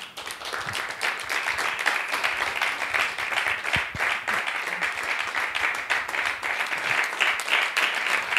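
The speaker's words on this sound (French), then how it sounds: "Nous acclamons." A studio audience applauds and cheers a couple at a televised pregnancy-show gathering, dense steady clapping filling the room for several seconds without a break.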